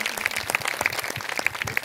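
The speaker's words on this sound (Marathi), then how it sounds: "एक जोरदार टाळी प्रभू येशूसाठी" Loud applause for Lord Jesus at a church service, many hands clapping in a brisk, uneven patter that fills the room steadily, close to the listener.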